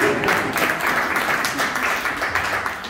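A business forum audience claps continuously for a few seconds, a broad, even wash of hands with no clear pauses.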